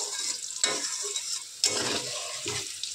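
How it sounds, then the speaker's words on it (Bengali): Potatoes fry and sizzle in a home-kitchen pan, with a steady hiss broken by three bursts of stirring and spatula scrapes, close and fairly loud, no voices. "আলু কিন্তু অনেকটা ভাজা ভাজা হয়ে গেছে।"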